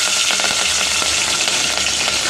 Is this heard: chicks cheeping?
no